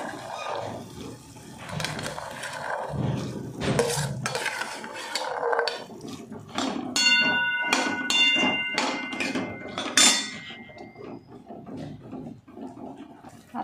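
Boiled chickpeas are tipped into an oily masala in a cooking pot and stirred, bringing close metallic clatters and scraping of a spoon against the pan, with busier clinking in the middle and no speech.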